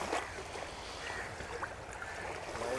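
A boat engine runs at sea off Rameshwaram during a ferry trip, a faint, steady low rumble blended with the wash of water against the hull.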